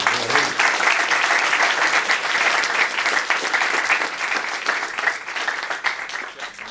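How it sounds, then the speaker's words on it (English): An audience at a school board meeting applauds a student being recognized with a certificate, a steady, loud wash of many hands clapping that holds throughout and tapers slightly at the end. "Come on now, clap for him."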